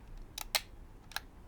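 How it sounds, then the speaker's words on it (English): A 35mm rangefinder camera's leaf shutter fires in soft, quiet clicks: a light double tick, a short gap, then a single faint tick, each crisp but low in level with no talk over them. "this is a nice quiet camera because it's got a leaf shutter"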